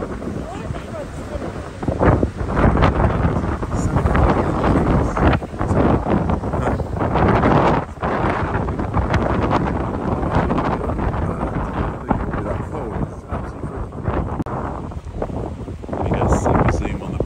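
Wind gusting across a microphone at a zoo penguin enclosure, loud uneven buffeting rumble throughout with brief stronger bursts.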